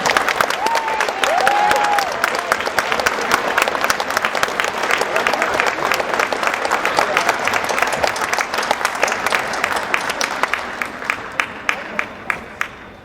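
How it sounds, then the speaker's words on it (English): Sustained audience applause with some cheering at an 8th grade promotion ceremony as a student comes forward for an award, dense and steady for about ten seconds before tapering into a few scattered claps. "Let's give a round of applause as this student comes down to accept their award."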